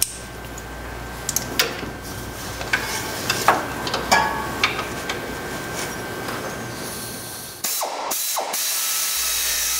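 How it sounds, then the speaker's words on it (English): An air ratchet driving a Torx socket: repeated short bursts of whirring and clicking at close range against a hissing background, with a pause before a steadier final run. "here I'm using a air ratchet"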